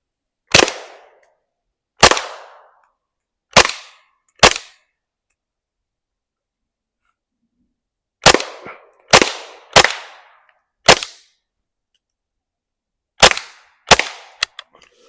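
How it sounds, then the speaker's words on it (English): Suppressed GSG Mauser .22lr rifle firing ten rounds at an outdoor range, sharp close cracks in irregular clusters separated by pauses of silence, no speech. "All 10 rounds went off without a hitch."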